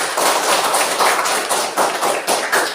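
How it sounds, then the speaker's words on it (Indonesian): A classroom of students claps for a classmate in a quick, loud, rhythmic burst of hand claps that pulses in a steady beat throughout. "tepuk tangan untuk Afer"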